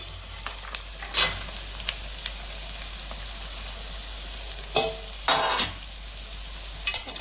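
Carrot pieces stir-fried in a pan with softened onions and green chillies: a soft continuous sizzle broken by a few louder scraping stirs, close by and with no talking.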